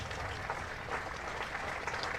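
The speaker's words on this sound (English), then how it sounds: "Leicestershire fielders, who have applauded Selman for that innings" Fielders and spectators at a Leicestershire Foxes versus Glamorgan Royal London Cup cricket match applauding a batsman after his innings, a steady, moderately faint patter of clapping from an open ground with no talk.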